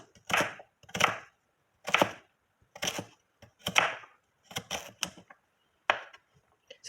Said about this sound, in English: I'm just gonna chop this up